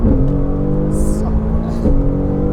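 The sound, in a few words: Mercedes-AMG GT R accelerating hard on wet race track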